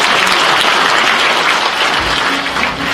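At a ceremony marking the 52nd anniversary of the police veterans' association, held at Sejong Center in Seoul, a hall audience claps steadily and densely after a congratulatory address, a continuous wash of applause with no voices over it.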